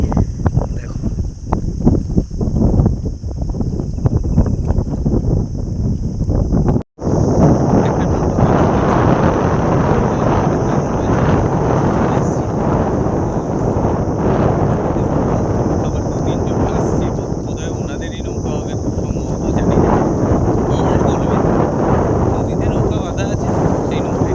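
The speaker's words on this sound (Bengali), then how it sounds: "এত হাওয়া" Strong wind blows beside a river in the Sundarbans where boats are moored. It makes a loud, continuous roar and buffeting rumble close to the microphone, with one brief dropout about a third of the way through.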